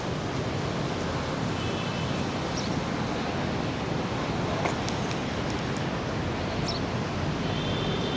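Rough ocean surf pounds the shore at Da Nang, Vietnam, a day before Typhoon Fengshen, heard as a loud, continuous wash of breaking waves mixed with gusty wind buffeting the microphone.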